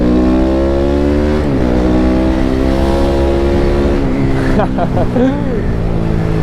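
A loud BMW G310R motorcycle engine drones close by with a raspy exhaust that has holes in it, its pitch rising and falling as it accelerates.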